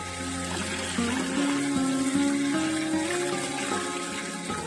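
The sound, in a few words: celery being washed under running tap water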